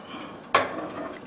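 A filled flan dish set down inside an oven, a single soft clunk of the dish against the rack standing out over a quiet background.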